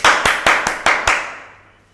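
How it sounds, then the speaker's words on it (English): Six loud, sharp hand claps in quick succession, evenly spaced and close by, each ringing briefly before fading into a quiet room tail. "he started clapping loudly, like, yes!"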